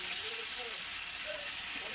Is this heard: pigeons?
no